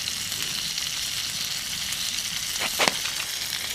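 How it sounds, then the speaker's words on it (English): A cooking fire at a winter camp by a pond in the Adirondacks in January, giving a steady close hiss and sizzle with a brief sharper crackle near the end, no voices. "This is a very good cooking fire"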